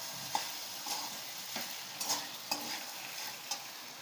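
Sabudana khichdi being stirred and mixed in a pan, a spatula scraping in irregular strokes every half second or so over a soft background sizzle, close and moderately quiet with no talk.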